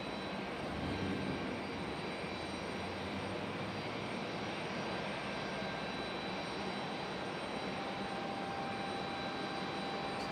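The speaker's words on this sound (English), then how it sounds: "you hear 173 Heavy, 777 from London" A Boeing 777 heavy from London arrives at Raleigh-Durham on a stormy day, a steady, distant jet roar held at an even level for the whole stretch, with no talking.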